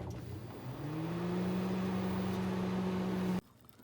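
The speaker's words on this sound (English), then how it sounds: "now we're going to take this and put it in the microwave for 1 minute and 30 seconds" A microwave oven runs with a steady electrical hum that rises slightly after starting, holds for a few seconds, then cuts off abruptly into near silence.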